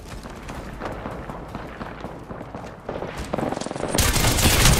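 Rapid bursts of gunfire in the Apex Legends battle royale shooter, with volleys rattling in quick succession that grow louder and denser toward the end of the stretch.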